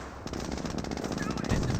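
Rapid machine-gun fire rattles in a dense, continuous volley at a Jeep in the World War II strategy game Company of Heroes, loud and close, with a sharper burst near the end.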